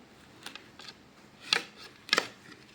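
Dragon fruit sliced with a knife, several sharp chopping strokes: light taps early, then two louder crisp cuts near the end, close and alone with no voices.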